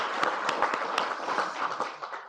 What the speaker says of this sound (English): How about a round of applause for your effort?